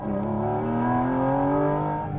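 A Porsche GT4 RS engine pulls hard on the road, heard from inside the cabin as a loud, steady rising engine note that climbs smoothly in pitch throughout.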